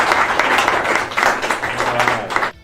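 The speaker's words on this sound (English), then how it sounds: "Have that a round of applause for Ms." An audience claps for a teacher of the year at a county award ceremony, a loud, close, steady roar of many hands that continues throughout and cuts off abruptly at the end.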